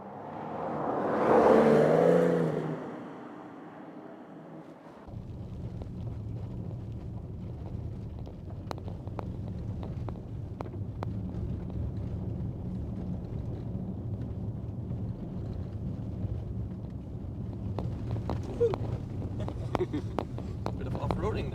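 A Porsche Macan EV moving off-road in Arctic conditions, a steady low rumble and whir of tyres and suspension over rough ground after a brief burst of voices, with occasional small knocks and rattles throughout.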